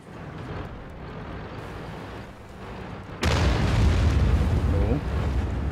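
A loud tank cannon blast bursts in suddenly, followed by a heavy rumbling explosion that lingers, after a stretch of quieter battle noise, in the video game World of Tanks with the AT-2 tank.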